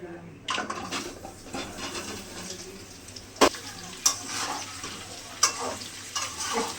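Raw mango pieces frying in a pan for a sour-spicy green mango pickle, a steady sizzle broken by sharp clinks and scrapes of a spoon stirring against the pan.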